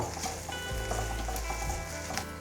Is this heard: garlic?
yes